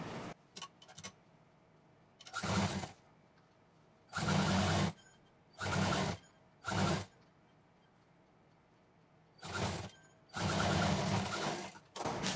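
A sewing machine stitches a shoulder bag made of jeans, running in six or so short bursts of steady whirring, each about half a second to a second long, separated by quiet pauses and faint clicks.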